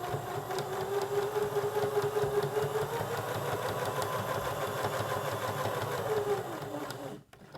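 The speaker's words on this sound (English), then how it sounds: "Now I'm going to come back and stitch the red fabric down" A sewing machine runs steadily as it stitches red fabric down onto a hot pad, a close, even mechanical whir and needle chatter that stops abruptly near the end.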